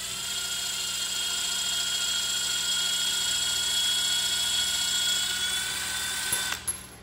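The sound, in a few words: drill spinning at speed one with a magnetic bit holder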